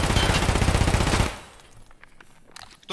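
Rapid automatic gunfire in Escape from Tarkov, a dense loud burst of shots in the first second and a half, then quieter scattered sounds and a sharp return of noise at the end.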